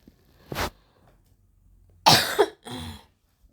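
Close, sharp coughs from one person: a single short cough, then after a pause a harsher burst of two coughs, with no talk around them.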